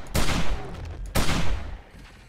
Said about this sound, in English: Those incendiary shotgun rounds?